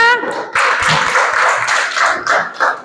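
Children in a classroom clap their hands together in a lively burst of rhythmic clapping that runs close and loud, with a voice heard briefly at the start.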